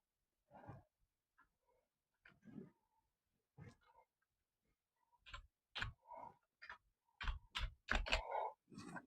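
Key presses on a computer keyboard while typing an address and mobile number into a résumé in MS Word, heard as sparse, separate clicks that grow denser and louder toward the end, with no voices.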